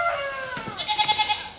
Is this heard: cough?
no